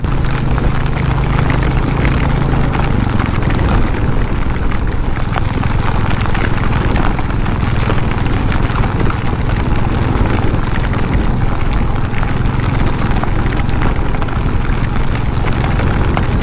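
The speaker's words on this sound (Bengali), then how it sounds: "চলো, এই বৃষ্টির ভেতরেই আমরা রাইড করব।" Steady, loud, broadband roar of rain and wind rushing past a moving motorcycle on a hill road, continuous and close with an engine drone beneath, no speech.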